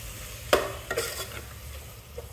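Mint and coriander leaves being stirred in a frying pan for kushka rice, with two quick scraping strokes against the pan over a low, gentle sizzle.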